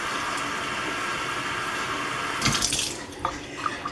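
Tap water runs steadily into the reservoir of a cordless water flosser, a continuous close hiss that shifts and splashes more unevenly toward the end as the flow changes.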